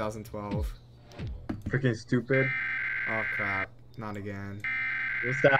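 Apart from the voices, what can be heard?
alarm buzzing in a Roblox video game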